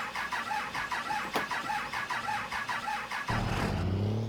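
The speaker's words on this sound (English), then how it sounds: "Never heard a truck take that long to start unless it had problems" A heavy 6x6 off-road truck in the Spintires driving game cranks repeatedly with a rhythmic starter churn for several seconds, then the engine catches and settles into a deep rumbling idle, close and alone.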